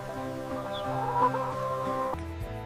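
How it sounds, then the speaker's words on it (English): A hen clucks in short repeated calls over steady farmyard background, fairly close, with a brief louder shift near the end. "Next come the chickens, one of the most useful animals in a small homestead system."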